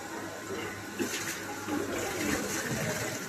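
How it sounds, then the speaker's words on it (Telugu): Water surging through the high-pressure pump of a small water treatment plant at a school, a steady rushing flow with a few louder bursts, heard fairly close with faint voices in the background. "Pump start high pressure."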